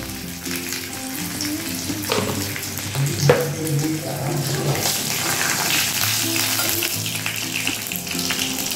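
Green chillies and salt hit hot oil with a steady, dense sizzle and sharp spattering pops, a bay leaf already in the pan; the frying runs continuously at close range with no voices.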